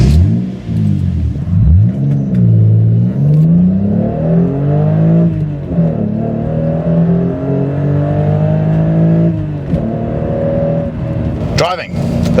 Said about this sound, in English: Driving the Toyota Supra.